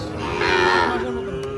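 An eight-month-old native deshi calf moos once in a long, drawn-out call at a busy cattle market, loud and close over a steady murmur of crowd noise.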